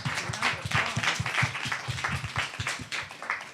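Audience applause for Andrew Keegan at a Sacred Sundays gathering, a steady crowd of clapping hands sustained evenly throughout at moderate volume, with no talking over it.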